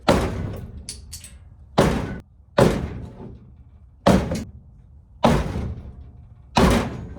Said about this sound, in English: try to knock these dents and the waviness out of the floor and the trunk